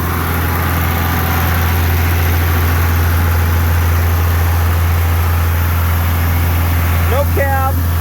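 An old, cab-less John Deere 2940 farm tractor idling with a steady, deep low hum that runs throughout, near and constant, with a short voice near the end.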